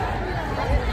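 Crowd chatter fills an outdoor Ambedkar Jayanti celebration at Ambedkar Park in Lucknow, a dense, continuous babble of many voices close around, with a brief louder swell near the end.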